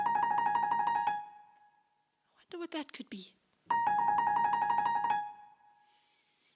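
Piano imitating a little bird trilling, heard as two bursts of quick repeated high notes separated by a brief stretch of someone speaking, the playing loud and close.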